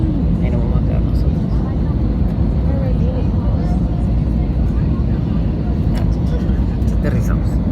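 An EasyJet Airbus A320 rolls out after a windy landing at Berlin Tegel, giving a loud continuous cabin roar of engine and rumble throughout, with faint voices of passengers mixed in.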